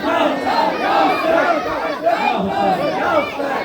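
A large crowd at a religious conference chants the slogan Ya Hussain in loud, rhythmic bursts of massed voices, close and sustained, with repeated rising and falling waves.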